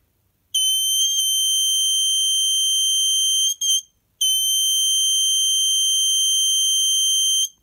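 Snap Circuits electronic horn triggered when light from a white LED reflects onto a phototransistor, giving a loud, piercing steady tone in two long bursts with a brief gap between them, close and alone.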